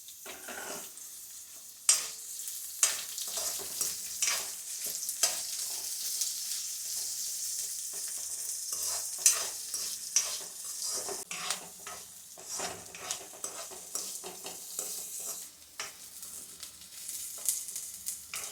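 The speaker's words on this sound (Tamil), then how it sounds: "இது நல்லா வதங்கினதும் வெட்டி வச்சுருக்கிற இந்த ஒரு வெங்காயம் இதை நம்ம சேர்த்துக்கிறோம்" Onions sizzle and crackle steadily in a hot pan, with occasional louder pops and scrapes of stirring throughout.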